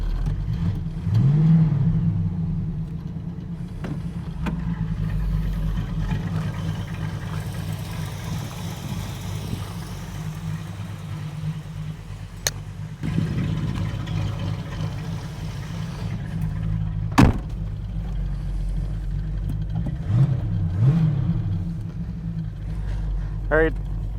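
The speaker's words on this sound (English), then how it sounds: "I'm going to pull out and let it idle for a second." 1937 Buick street rod engine idling, a steady low rumble heard from inside the car, with occasional light revs and a few brief knocks, while someone talks over it.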